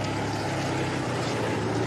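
A motorcycle engine running behind a marathon runner gives a steady, close, unbroken mechanical drone with a rumbling low end, heard alone with no talk.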